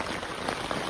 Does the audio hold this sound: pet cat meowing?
no